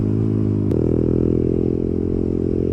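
Honda MSX small motorcycle riding steadily while its tyres are warmed up, a loud continuous engine drone with a slight pitch step partway through, no voices.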